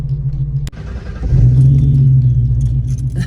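A Ford Coyote-swapped car running on E85 idles with a steady low rumble, then stumbles and lurches near one second before settling into a rough, loud, uneven idle close by.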